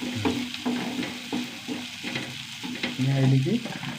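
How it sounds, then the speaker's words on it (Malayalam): Food sautés steadily in a hot pan with a continuous close sizzle and frying crackle, interrupted by light stirring scrapes, while a person speaks quietly over it. "നന്നായി വഴണ്ടു വരുന്നുണ്ട്"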